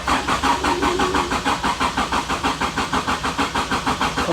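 A car engine cranks in cold weather with a fuel pump running, a loud, close, rapid and evenly pulsing starter rhythm that continues steadily throughout without voices.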